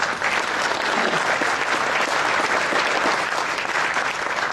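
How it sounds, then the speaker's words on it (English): Loud, sustained applause from a large crowd at the Nvidia CES 2014 keynote, a thick unbroken wash of clapping filling the whole stretch. "give those guys a round of applause"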